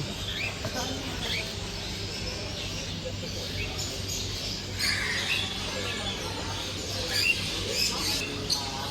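Birds chirping and squawking inside a pet shop in Kuwait, a steady chorus of small calls with sharper bursts near the end, under quiet talk from visitors.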